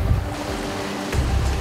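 Rough sea waves churn and surge around a working boat at dawn, a loud, close, continuous wash of broadband water noise with one swelling rush near the end.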